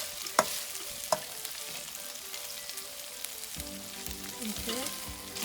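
Garlic frying in a little oil in a pan, a steady soft sizzle with a couple of sharp clicks near the start and stirring scrapes later, no voices.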